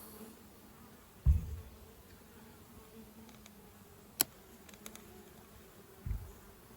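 A steady, close hum of honeybees buzzing in a mini nuc hive, with a few soft knocks and bumps.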